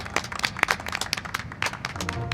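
A small group of people clapping in quick, uneven bursts, close and fairly loud, with no talking over it.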